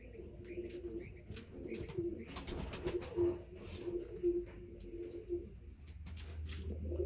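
White pigeons from a bird market cooing at close range, a repeated low throaty coo in a steady rhythm, with light rustling and faint chirps around it.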